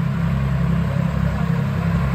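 A Swaraj tractor engine runs steadily during a speed test, a loud, close, low diesel drone with a constant throbbing rumble and no voices.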